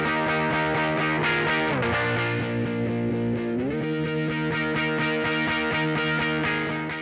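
Electric guitar played through a software amp model, with a continuous distorted, heavily effected tone, sustained chords shifting pitch midway, loud and close, no voices.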